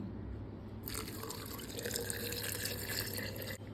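Filtered water is poured into a jar of beetroot kanji, a soft trickling splash that starts partway in and runs steadily to the end, faint and close, with no voices.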